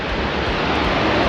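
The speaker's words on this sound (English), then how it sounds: "we're just stopped next to this massive waterfall" Glenmacnass waterfall, a massive fall in the Wicklow Mountains, pours in a loud, dense, unbroken roar of rushing water heard close by.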